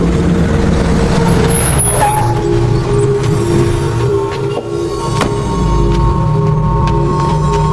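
A heavy road vehicle braking to a stop at the roadside, with a loud engine rumble, squealing brakes, a hiss of released air and clanking, heard on its own without talk.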